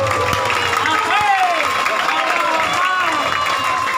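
A crowd applauds and cheers at a Maulid Nabi religious sermon in Pasir Gadung, Bogor, with sustained clapping and mingled voices running steadily throughout.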